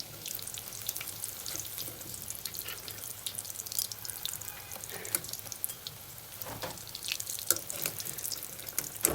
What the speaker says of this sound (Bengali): এবার আমি আলুর চপগুলো ভেজে নিচ্ছি বেসন দিয়ে।